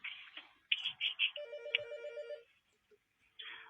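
A telephone rings on a radio talkback phone line, several bright repeated ring bursts followed by a sustained two-tone warble, then a short gap before another ring starts, clear and alone without talk.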